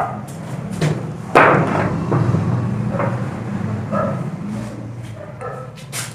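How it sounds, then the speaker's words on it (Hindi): Dogs bark with several short yips and yaps scattered over a steady low background hum, sounding at a moderate distance in an outdoor setting. "ये कुत्ते आवाज करते हैं।"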